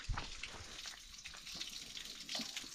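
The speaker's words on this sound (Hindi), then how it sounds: "मेरे बैग से ना बोतल निकालनी है, पानी भर देते हैं यहाँ से।" Tap water running as a water bottle is filled outdoors in an Indian village: a quiet, steady splashing gush with small bursts, faint and close, with no talking.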